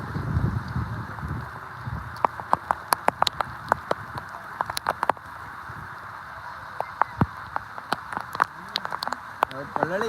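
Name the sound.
rain falling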